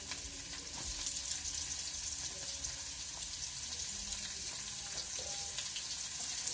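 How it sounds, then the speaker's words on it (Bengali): Radish hitting a hot pan of stir-fried chowmein, a steady crackling sizzle throughout with faint stirring and scraping sounds, fairly quiet and without talk. "এবার মূলো দেবো"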